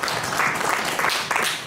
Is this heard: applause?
yes